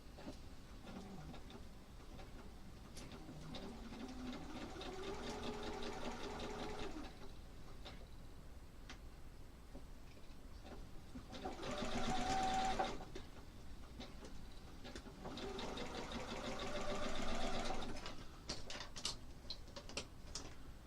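Sewing machine stitching quilt pieces together with leader-and-ender piecing, running in three steady whirring bursts separated by brief pauses, close and moderately loud with no talking.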